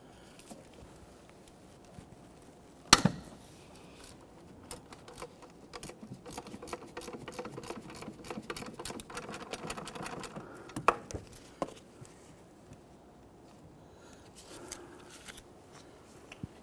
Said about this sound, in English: I'm going to use our gear wrench on that.